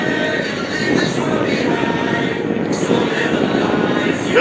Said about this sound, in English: the Vans family of aircraft that Ken and Austin fly